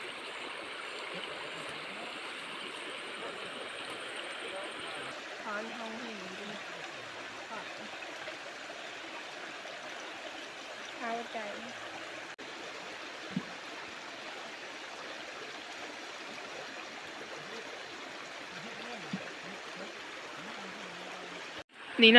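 Wild mushrooms freshly gathered from a forest stream are washed in water, giving a steady running, trickling wash that holds through the whole stretch, with occasional small splashes and handling knocks close by.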